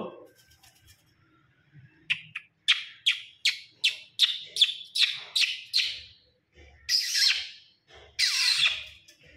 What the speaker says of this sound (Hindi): मैना बोलो।